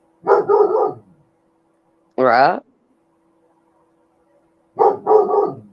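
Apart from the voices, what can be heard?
puppy barking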